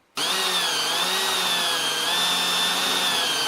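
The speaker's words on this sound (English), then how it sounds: "I'm just going to drill in this piece of metal in my vise" A power drill starts abruptly and runs at steady high speed, whining continuously as it bores into a piece of metal held in a vise, loud and close.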